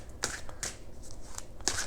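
A deck of tarot cards being shuffled close up, with a few crisp riffling bursts separated by short pauses, and no talk.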